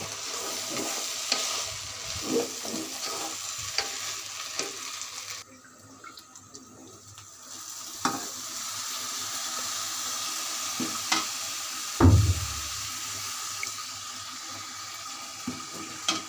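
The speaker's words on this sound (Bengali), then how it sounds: "এটা ভালো করে এখন কষিয়ে নেব।" Kacchi biryani ingredients are stir-fried in a pot, with repeated clacks and scrapes of a spoon against metal over a soft sizzle, a short pause midway and a heavier knock near the end.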